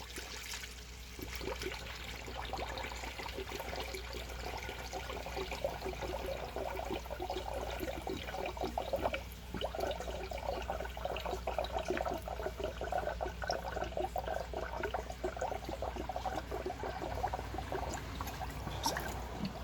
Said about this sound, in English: Now I'm going to add coolant in here.